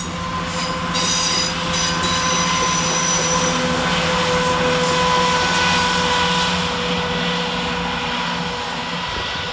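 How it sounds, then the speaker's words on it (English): Cross-country passenger train 17623 pulls out of Nuneaton station, a loud, sustained drone with steady tonal whine and rumble from nearby, rising slightly then easing away toward the end, with no talk. "Next train out is 17623, departing with the 11:51 cross-country service from Birmingham New Street to Cambridge."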